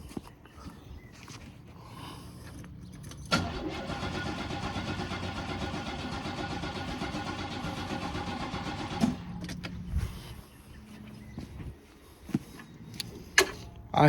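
A derby car's starter cranks for several seconds without catching, a steady whirring grind that stops abruptly, followed by quiet clicks and clunks, with no talking.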